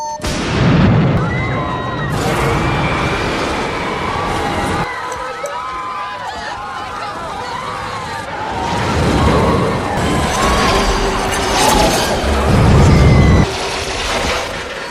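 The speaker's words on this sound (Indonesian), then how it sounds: "Payne lebih awal 3 menit menekan tombol untuk meledakkan bom" A bomb blasts inside an elevator in the 1994 action film Speed, a loud burst within a dense, layered movie soundtrack of music and effects that swells and falls. Deep booming rumbles return near the end.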